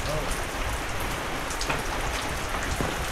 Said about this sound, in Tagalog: Tara, silong kayo, malakas ang ulan.